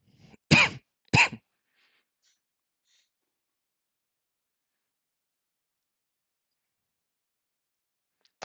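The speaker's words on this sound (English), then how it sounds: "I think I'm about to get abs from all the coughing I've been doing." Two short, close coughs in quick succession from a man during a live futures trading session, followed by a long stretch of near silence.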